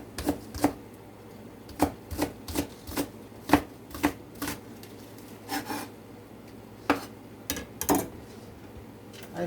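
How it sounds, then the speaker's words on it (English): Green onions chopped with a knife on a cutting board: a series of crisp, close taps arriving irregularly in short clusters, with quiet pauses between them. "And I'm gonna chop up my green onions."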